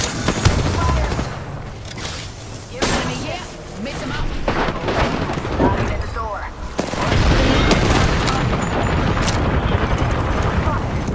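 Gunfire from the video game Apex Legends, with a burst of sharp shots and booming blasts followed by rapid repeated firing, loud and close, mixed with bursts of talk.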